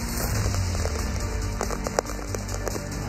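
Heavy rain pours down over a city, a steady hiss of drops hitting surfaces with a faint background tone and an occasional louder tap, with no talking.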